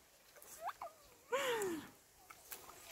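A bird calls from a tree in the countryside, giving a few short rising chirps followed by a louder sweeping call, fairly near against quiet outdoor background with faint rustling.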